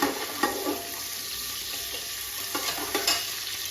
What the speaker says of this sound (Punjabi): ਪਿਆਜ਼ ਨੂੰ ਆਪਾਂ ਬ੍ਰਾਊਨ ਹੋਣ ਤੱਕ ਭੁੰਨਣਾ ਹੈ